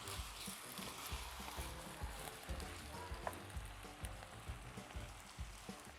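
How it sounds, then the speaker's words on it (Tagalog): Chicken pieces frying in a pan until the outside browns, a steady close sizzle with intermittent stirring and scraping knocks against the pan, no talking. "ituloy lang natin ang pag-isa dito sa chicken hanggang sa mag-brown na yung outer part nito"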